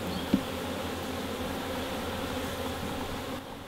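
Honey bees buzzing steadily at a hive entrance where a drone is present, a close, continuous droning hum with one brief sharp knock near the start.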